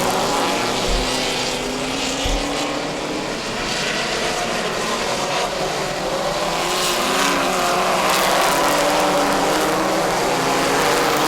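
Race cars roar around a New England short track, including the yellow number 2 and the 93, a loud continuous engine drone with rising and falling pitch as cars pass, steady throughout.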